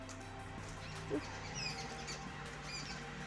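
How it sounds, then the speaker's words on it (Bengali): A small bird chirps a few brief, high notes outdoors, faint and distant over a low steady background hum. "বুঝতে পারছি ওপরে একটা পাখি ডাকছে"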